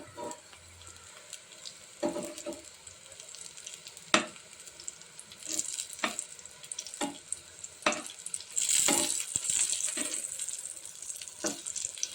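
Eggplant slices fry in a pan in a home kitchen, a steady sizzle broken by clinks and scrapes as the pieces are turned, with a brief spit of water-like hiss near the end.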